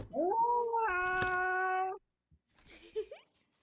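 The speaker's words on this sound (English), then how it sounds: "Oh, hi, cat." A cat in the video game Melody of Elemia gives one long, rising then wavering meow up close, followed by quieter, fainter game sounds after a brief pause.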